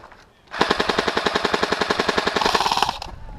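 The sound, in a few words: airsoft gun firing on automatic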